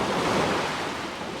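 Ocean waves break and wash over a sandy beach in a loud, close, continuous rush of surf, with wind buffeting the microphone.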